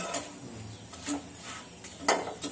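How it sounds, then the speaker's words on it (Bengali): Paratha fries in a pan at home, with a low sizzle under repeated scraping and clattering of a utensil against the pan, coming in short bursts at close range. "মাইশান বাবা পরোটা ভাজতেছে"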